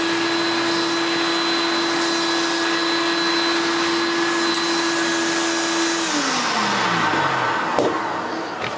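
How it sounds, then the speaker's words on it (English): Turbo Power 3 vacuum cleaner running with its hose sucking up string, a loud steady motor drone with a constant whine that drops in pitch near the end, alongside a brief clatter. "So I won't use the actual brush roll for that, which we use the hose."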